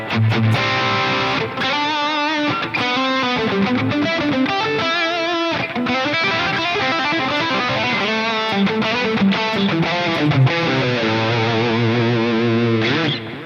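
An electric guitar played through a JCM800 amp plugin sounds loud and distorted, with chugging chords and sustained riffs that continue unbroken, no voices present.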